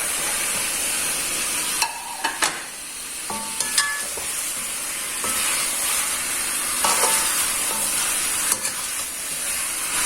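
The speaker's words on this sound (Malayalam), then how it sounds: "ഈ ചിക്കൻ നമുക്കിതിലേക്ക് ഇട്ട് കൊടുക്കാം" About 1.5 kg of chicken goes into a hot pan of spiced masala for Kerala chicken roast, giving a loud, steady sizzle and hiss with sharp clatters of pieces dropping in and stirring, no voices.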